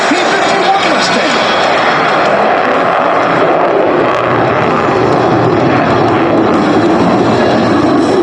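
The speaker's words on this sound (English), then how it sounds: "We got that beautiful P-51 Mustang." A P-51 Mustang propeller aircraft roars past at an airshow, loud and steady throughout, with a continuous broadband engine drone under faint crowd or announcer background.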